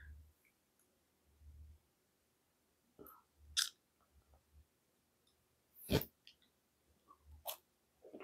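Close-up chewing with soft, irregular mouth sounds and a few sharper crunches breaking through, in short bursts separated by quiet pauses.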